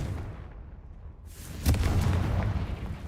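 Confringo blasting spell in Hogwarts Legacy, a low rumble suddenly broken by a single sharp, loud blast that leaves a heavy booming tail.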